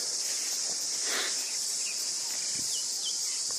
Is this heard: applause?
no